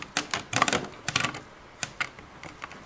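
Sharp plastic clicks from a button pressed to eject a cassette on a Transformers Masterpiece MP-16 Soundwave toy, reissued in 2017 by Takara Tomy: a quick, irregular run of close, crisp snaps and rattles with short gaps between them.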